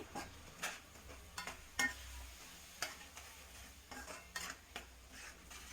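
Blended gravy being stirred into biryani in a pot gives soft, faint scraping strokes in an irregular rhythm, with occasional louder clinks of the spoon against the pot.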